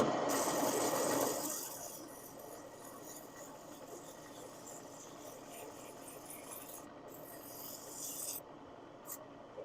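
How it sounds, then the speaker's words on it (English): Light hand sanding on a turned wooden rim, a soft steady rasping rub that starts a little louder for the first second or so, then settles into a quiet continuous scratch with small variations. "Hand sanding too, very light touch."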